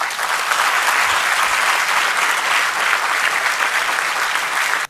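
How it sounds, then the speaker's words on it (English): Loud, sustained applause from a large audience at the Indian Institute of Management Bangalore greeting economist Dr. Subramanian Swamy, a dense continuous roar of clapping that cuts off abruptly at the end. "we would like to welcome Dr. Subramanian Swamy with a big round of applause"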